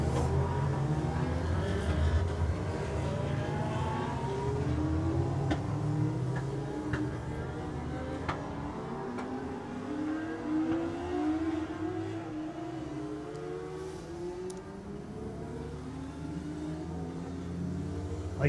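At a Kirkistown superbike race start, a pack of motorcycles accelerates away, their engine notes rising and overlapping in repeated upward sweeps. The sound is distant and fairly faint against a crowd and ambient wash.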